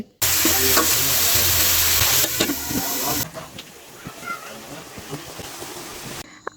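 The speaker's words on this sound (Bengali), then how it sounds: "এখন মশলার সাথে মাংসটা ভালোভাবে কষিয়ে নিব" Free-range country chicken meat sautés with spices in a pan, giving a loud, steady sizzle and hiss with stirring scrapes for about three seconds, then a quieter, uneven frying crackle that continues to the end.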